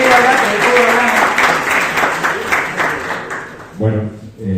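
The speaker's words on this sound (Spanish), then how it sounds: "Y un aplauso para el Guille, por favor, que se vino desde Córdoba." Audience applauding a guest architect from Córdoba at a talk, a steady wash of clapping filling the room before it thins out toward the end, with a voice speaking over it near the close.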